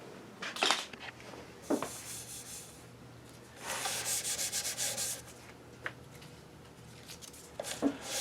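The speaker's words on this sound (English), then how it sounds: "I've gone over this again with 220 sandpaper, and I believe that I've knocked the whole surface down." Sandpaper of 220 grit rubbing across the finished surface of a wooden monitor stand, several close scratchy passes of varying length with short pauses between strokes and one longer steady stretch in the middle.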